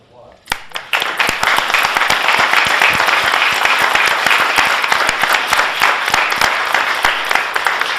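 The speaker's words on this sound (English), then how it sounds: "Let's give another round of applause" A board meeting audience breaks into sustained applause, a dense, steady wash of many hands clapping close by for about seven seconds with no talk over it.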